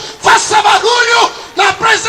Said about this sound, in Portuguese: Glorifica a Deus com os teus gritos